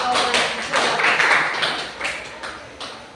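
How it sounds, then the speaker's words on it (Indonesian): A small group claps together in a classroom, a dense, brief burst of hand claps that thins into a few scattered claps. "tepuk tangan dulu untuk kita semua"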